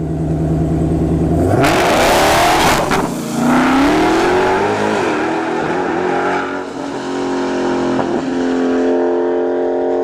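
A nitrous Hellcat and a Tesla Plaid launch down a drag strip, the V8 roaring loud and close as it accelerates hard with a climbing pitch, then fading as the cars pull away.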